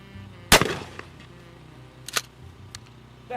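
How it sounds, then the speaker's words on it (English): A ballistic shell is fired in the Guntakuverse RP video game: one loud, close, sharp blast with a short ringing decay, followed by a few quieter clicks and clacks in an otherwise quiet scene. "And then we're going to shoot in a ballistic shell."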